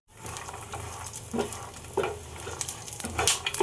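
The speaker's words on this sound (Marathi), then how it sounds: "हे आपण थोडे शेंगदाणे लालसर होईपर्यंत आपण भाजून घेऊया।" Peanuts, green chillies and garlic cloves roasting in a pan, a close sizzling crackle broken by repeated scraping stirs every second or so, moderately loud with no voices.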